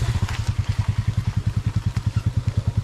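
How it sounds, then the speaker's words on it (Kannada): An off-road motorcycle idles close by with a fast, even, thumping pulse, steady and alone, on a ride in the Western Ghats near Kudremukh. "ಇವತ್ತು ನಾನು ಆಫ್ ರೋಡಿಗೆ ಬಂದಿದ್ದೀನಿ ಈ ಬೈಕಲ್ಲಿ"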